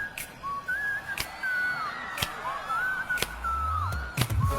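Melodic whistling carries a tune through a song, its sliding notes clear and prominent. Sharp whip-like percussive cracks land every second or so, and a low bass swell rises near the end.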